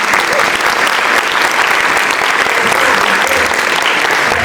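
Loud, dense applause from a seminar audience, continuous clapping close and full throughout the few seconds with no voices audible over it.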